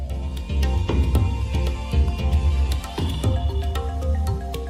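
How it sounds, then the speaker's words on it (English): Rhythmic desert-themed video game music with a steady thumping low beat and a repeating melodic line, played continuously without voices. "desert music just tends to sound like this in video games."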